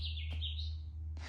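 A bird chirps loudly outdoors in a few bright, repeated calls over a steady low hum, with a brief noisy burst near the end.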